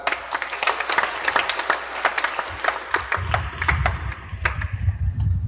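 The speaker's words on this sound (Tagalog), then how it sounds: "Pamalakpak ng malakas." A church congregation claps loudly during a homily, a dense burst of hand claps that thins out midway while a low murmur and voices rise underneath.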